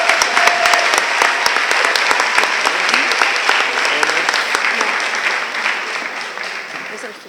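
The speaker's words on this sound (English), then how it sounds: "And let's give them one more round of applause." Sustained applause from an audience at a school moving-on ceremony, loud and dense with sharp individual claps, gradually tapering toward the end.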